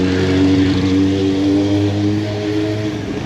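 Honda PCX160 scooter engine running steadily while riding at low speed, a loud, continuous motor hum with a slowly shifting pitch and no talk over it.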